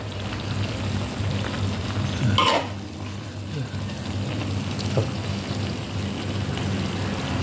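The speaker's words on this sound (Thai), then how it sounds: "ผัดใส่กรอกใส่ พริกแกงครับ" Pork sausage and curry paste stir-fried in a pan, a steady broadband sizzle with occasional scraping stirs, and a louder clatter near the middle.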